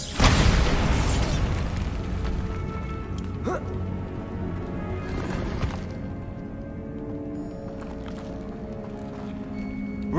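Bombarda explosion spell in the Hogwarts Legacy video game: a loud burst at the start that decays into a long rumbling crackle and debris clatter, with game effects continuing underneath.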